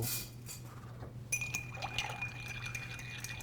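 Brandy and absinthe stirred over ice cubes in a glass with a bit of water and lemon juice, giving light, steady clinks and liquid swirling, close and fairly quiet without talk.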